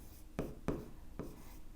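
Pen strokes writing on paper up close, three quick scratchy marks in under two seconds, quiet and alone.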